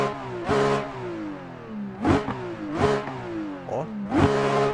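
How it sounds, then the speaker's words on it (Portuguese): Car engine in a racing video game at the Nurburgring, revving hard in repeated bursts with rising pitch sweeps and gear shifts, loud and close, with no talking. "Dá uma escutada nesse motor."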